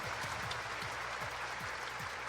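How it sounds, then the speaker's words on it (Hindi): A large crowd at a government appointment-letter ceremony in Jaipur claps steadily. The applause is dense and continuous, with sharp individual claps standing out, and it fills the whole short stretch. "एक बार बच्चियों के लिए जोर से ताली बजाइएगा।"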